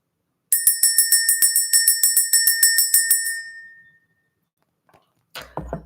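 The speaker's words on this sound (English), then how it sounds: "Let's go ahead and ring the bell." A small hand bell is rung rapidly and steadily for about three seconds to clear the energy, its bright metallic strikes ringing out clearly before fading away, followed by a short rustling noise.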